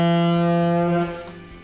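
Saxophone holding a low D with the octave key added, a sustained, rich, buzzy reed tone at close range that steps to a slightly altered timbre at the same pitch before fading.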